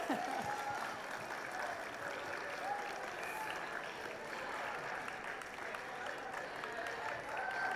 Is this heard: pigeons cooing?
no